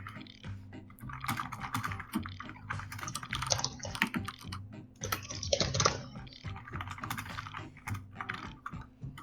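Fast, busy clacking of keys from a computer keyboard, continuous and close, with a low hum underneath.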